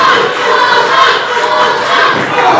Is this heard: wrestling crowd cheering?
yes